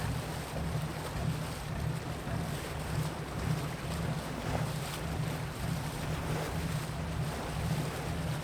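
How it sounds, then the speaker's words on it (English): Flowing water washes past a ship on a river, layered over a low, constant engine hum and soft wind, steady and unbroken with no voices. "Lulled by the sound of the water and the low hum of the ship, you drift along the deck."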